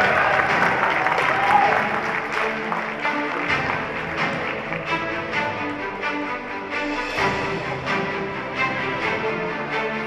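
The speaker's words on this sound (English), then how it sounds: "give a big round of applause for Shreyas Limaye" Audience applause at a youth fashion show, loud and sustained clapping from a crowd with music and some voices mixed underneath.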